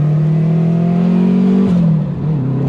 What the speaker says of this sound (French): Le fameux bruit de la Turbo 2